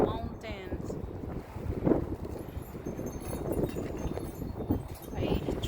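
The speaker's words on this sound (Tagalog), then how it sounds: "As you can hear the wind blowing hard from the mountains." Strong mountain wind buffets the microphone in rough, rumbling gusts that surge and ease without a break. A voice is faintly present at the start.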